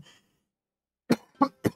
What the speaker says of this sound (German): Der Husten wird zwar besser, aber ist immer noch nicht ganz weg.